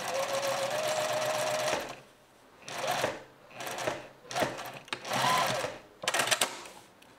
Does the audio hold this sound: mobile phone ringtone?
no